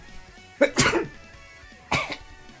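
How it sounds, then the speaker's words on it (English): A person sneezes twice, short explosive bursts close to the microphone with a pause between, no talk over them. "I'm gonna sneeze."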